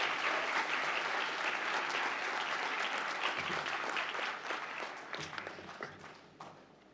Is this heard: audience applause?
yes